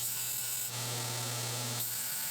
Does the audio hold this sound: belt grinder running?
yes